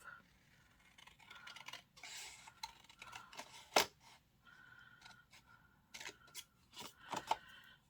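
Scissors snip sequins off a strip, giving several short, crisp cuts spread through a quiet indoor room with small handling rustles between them.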